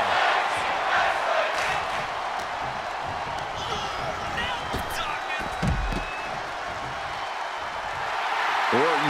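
Wrestling arena crowd in WWE 2K24 during a tag team elimination match, a constant broad roar of cheering with scattered thuds and slams, commentary voices talking over it.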